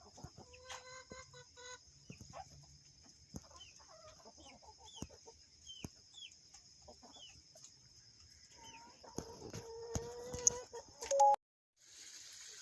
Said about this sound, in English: Winston's been crowing all morning long